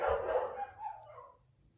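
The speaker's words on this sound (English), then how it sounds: "For God's sakes, those dogs." Dogs give a brief burst of barking, faint and somewhat distant, which fades out after about a second.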